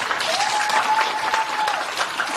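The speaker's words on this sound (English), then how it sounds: "And this is the kind of applause is needed for hands are red." A live event audience claps fast and hard in sustained, dense applause that stays loud and steady throughout, with a faint whistle-like tone briefly riding over it.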